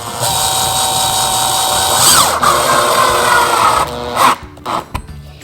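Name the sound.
power drill driving small screws into vanity mirror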